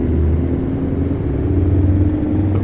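A Scania 770 truck running an engine sound mod in Euro Truck Simulator 2 gives a steady, deep engine rumble with a low droning tone, continuous and unbroken, with no talking.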